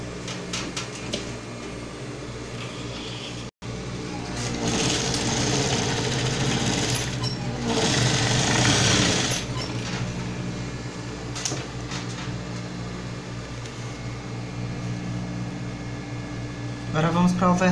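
A sewing machine hems a wrap dress, its motor running in a dense, fast rattling whir that swells and eases across the clip, with short pauses and light handling noises between stitches.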